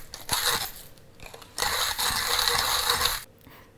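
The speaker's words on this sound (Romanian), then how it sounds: "Măcinăm cu drag și cu spor." A burr grinder crushes coffee beans for a V60 pour-over, giving a steady, close rasping churn with mechanical clicking that runs through most of the stretch, surging louder midway before stopping near the end.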